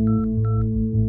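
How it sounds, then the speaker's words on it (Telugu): A phone number is dialed, giving four short, distinct touch-tone beeps in quick succession over a steady low electrical hum, close and clear. "ఆ రమేష్ ఫోన్ నెంబర్ చెప్పండి"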